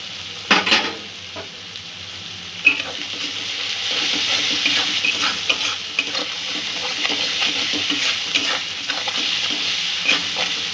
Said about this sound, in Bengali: মশলাটার থেকে যতক্ষণ না তেল ছাড়ছে ততক্ষণ মশলাটা কষে নেব।